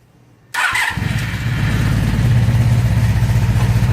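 A 1996 Honda Magna motorcycle engine catches abruptly after a brief crank and settles into a loud, steady, throbbing idle close by, with no talking over it.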